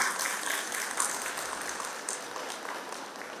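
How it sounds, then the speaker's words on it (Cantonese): An audience applauds at a Lions Club sister-school service recognition day, a dense, even wash of clapping that holds steady throughout without clear breaks. "我哋希望借大家掌聲咧"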